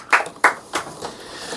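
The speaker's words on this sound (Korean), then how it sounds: "박수 한번 치워주자, 하니." Handclaps in a math classroom after a solved problem: three or four sparse, light claps, the first two sharper and the rest fading quickly, fairly close and alone.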